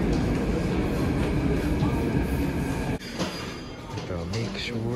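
A Seoul subway train rumbles and clatters loudly past at close range, with metallic squeals and echoing noise of an underground station as it slows.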